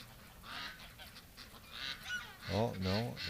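Ducks out in winter give a few loud honking calls close by, bunched near the end over a low background hiss.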